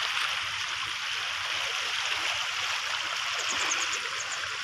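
A provincial river streams along in a steady broad rush of flowing water, continuous and fairly close, with no voices over it.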